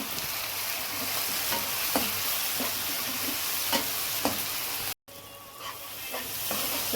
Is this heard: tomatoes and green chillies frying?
yes